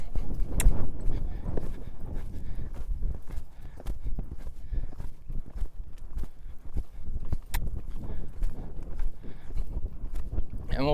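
A young colt being started lopes around a pen, its hooves thudding in a rolling rhythm close by over a low, windy outdoor background.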